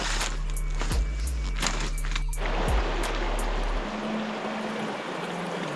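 A small creek flowing at a river crossing in the Victorian high country, a steady broadband rush of water. A few knocks and scrapes sound nearby in the first seconds, then the water continues alone.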